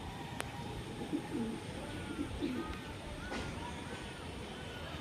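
A racing pigeon gives a few soft, low coos in the first half, faint against a steady background hiss, with a voice heard now and then nearby.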